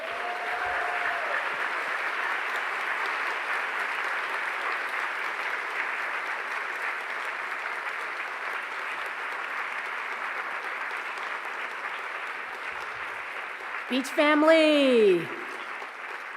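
A large convocation audience at CSULB gives sustained applause for the new president, a steady, even roar of clapping that carries on throughout, with a brief spoken phrase near the end.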